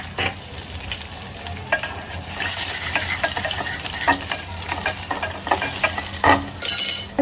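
Mustard seeds, cumin, garlic and curry leaves crackle and sizzle in hot oil for a tempering, a steady frying hiss with scattered sharp pops and occasional light clinks of a utensil.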